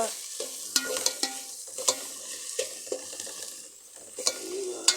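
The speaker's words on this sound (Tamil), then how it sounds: "இதையும் போட்டு கிண்டி விட்டாச்சு" Chicken curry ingredients being stirred in a frying pan: a soft continuous sizzle punctuated by regular spoon scrapes and taps against the pan, close and quiet, with no voices.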